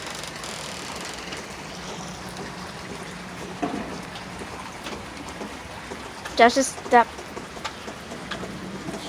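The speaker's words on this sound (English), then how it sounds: "And it's raining a lot." Heavy rain pours steadily as a constant hiss, with someone speaking briefly over it and a few sharp voiced bursts near the end.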